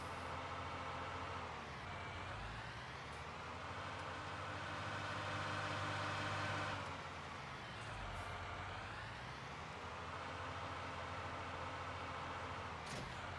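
A John Deere 4455 tractor in Farming Simulator 19 drones steadily under load, a loud, continuous low engine hum whose pitch sags and recovers a few times as it pulls, with no voices over it.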